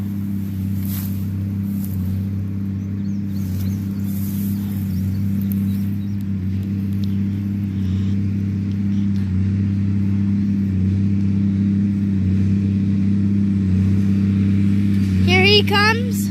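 A Massey Ferguson-style MX-255 tractor works its way closer through a green alfalfa field, its engine a steady low drone with strong harmonic hum that holds throughout and grows slightly louder, with a brief squeal near the end.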